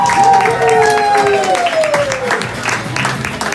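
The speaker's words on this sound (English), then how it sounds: "we're all giving him an applause" Group applause from people gathered on a rooftop in Jerusalem to honor a chef, steady clapping throughout with voices and a tonal sliding sound over it.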